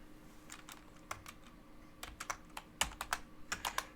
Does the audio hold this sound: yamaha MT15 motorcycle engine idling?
no